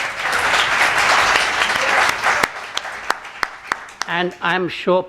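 Audience applause at a literary festival session in Islamabad, a steady wash of clapping for about two seconds that breaks into isolated sharp claps before a voice begins speaking.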